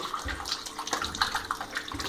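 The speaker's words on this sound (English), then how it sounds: "I'll put some water inside it from this tap" Tap water runs steadily from a household faucet into a glass, giving a continuous broadband splashing rush that stays at an even, moderately close level throughout with no voices.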